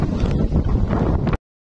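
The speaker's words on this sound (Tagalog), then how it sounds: "Grabe yung hangin" Strong wind roars across the microphone on a bike ride between Omagh and Galway, a dense low buffeting rush for over a second before cutting off abruptly into silence.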